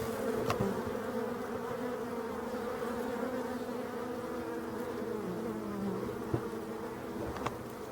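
Honeybees buzzing around beehives under pressure from Asian hornets, a dense continuous outdoor drone of many insects with occasional closer passes, steady and fairly loud with no talking.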